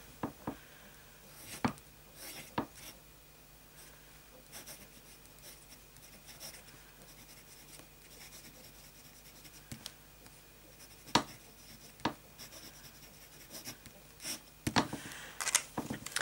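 Pen nib scratching across paper while writing in Rohrer & Klingner Alt Bordeaux ink, quiet close strokes with intermittent louder scrapes and taps, no speech.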